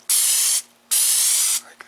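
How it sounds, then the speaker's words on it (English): Two bursts of spraying hiss from liquid sprayed onto a stepping stone mold, each about half a second long, separated by a short pause, close by. "Just spray it around"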